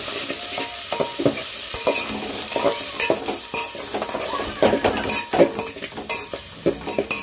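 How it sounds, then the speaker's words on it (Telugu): Ginger garlic paste fries with onions already cooked to brown, giving a steady sizzle that runs throughout. A spoon repeatedly scrapes and stirs against the pan in uneven knocks, close and fairly loud, with no voices. "అల్లం వెల్లుల్లి పేస్ట్ పచ్చివాసన పోయేంత వరకు బాగా ఫ్రై చేసుకోవాలి."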